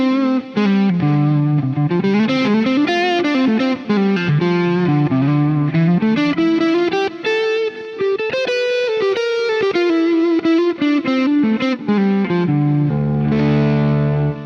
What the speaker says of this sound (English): as you turn it up, you can get some really nice, fat, distorted sounds